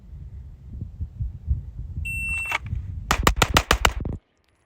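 An RSU Arms Odin ported and compensated gun fires six sharp, rapid shots in a tight burst, closely spaced and loud, following a brief electronic timer beep over low background rumble.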